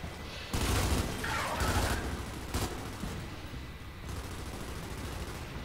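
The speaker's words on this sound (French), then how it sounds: "il tire un coup" Enemy gunfire in the video game Gears 5 on Xbox One X, with loud bursts of shots and rattling fire that come and go across several seconds, over dense game noise with no talk.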